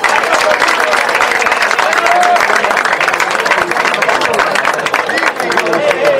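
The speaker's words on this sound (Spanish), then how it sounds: "Fuerte el aplauso, vamos." A crowd at a New Year's party applauds in a dense, continuous wash of clapping, loud and steady for several seconds, with voices mixed in.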